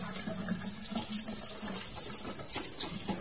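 Water runs from a tap while seafood is washed, a steady close splashing and trickling with small clinks, no talking over it.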